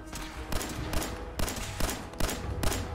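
An explosive pistol in Fallout 4 fires in several sharp, booming shots at an uneven pace, each blast ringing out loudly and decaying into a noisy tail before the next.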